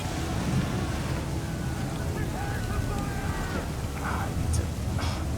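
Rolling ocean waves in Assassin's Creed 3 during a naval sequence, a steady loud wash of surf and wind around the ship, with faint voices underneath.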